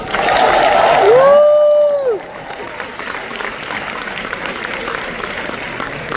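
A San Diego Comic Con panel crowd for Hulu's King of the Hill applauds and cheers, with a loud whoop rising over the clapping before the noise eases into lighter, scattered applause and murmuring.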